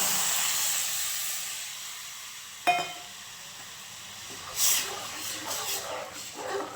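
Guava rasam poured into a hot tempering of curry leaves, giving a steady loud hiss and sizzle with a sharp burst partway through, then quieter bubbling crackles and a faint clink.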